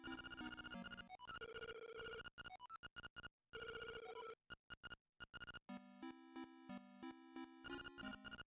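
An electronic telephone in Link's Awakening DX rings in chiptune bursts of stepped beeps separated by short silent gaps, continuing for several seconds with no talk.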